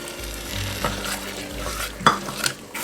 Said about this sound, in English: And we're adding our cream.